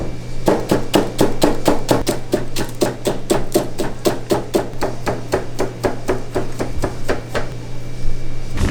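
Knife chopping natural green laver nori on a cutting board for shoyu ramen, a fast steady run of sharp, close taps over a faint background hum.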